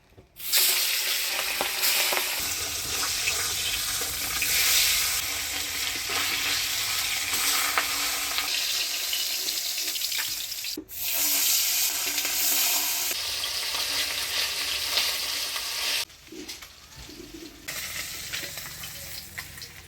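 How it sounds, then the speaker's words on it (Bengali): Pabda fish fries in a pan in a Bengali village kitchen, a loud, dense, close sizzle that crackles continuously, briefly drops off once midway and fades lower near the end, with no speech. "মাছ ভাজি নিলাম"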